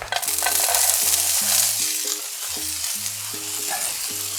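Steady, dense sizzling of food frying in hot olive oil, loud and close, with a continuous crackle and a low rhythmic tonal pattern running underneath.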